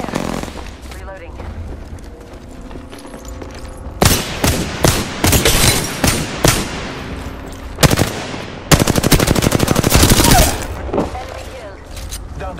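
Video game gunfire in a squad-based shooter: long bursts of automatic weapon fire and rapid volleys, loud and close, broken by quieter stretches with distant shots and brief in-game callouts.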